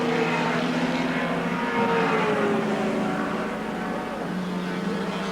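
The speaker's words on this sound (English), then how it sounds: "We can see spray coming off the tyres, Moffat probing away" 1984 Group C touring cars race on a wet, greasy Surfers Paradise circuit, their engines a steady loud roar with rising and falling pitch as cars pass, mixed with tyre spray hiss.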